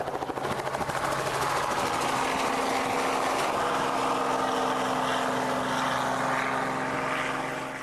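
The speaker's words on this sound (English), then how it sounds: "And so the helicopter goes up." A helicopter of about 2.5 tons lifts off the ground, its rotors beating in a rapid rhythmic chop that settles into a loud, steady, close roar of engine and blades lasting several seconds, with no talking.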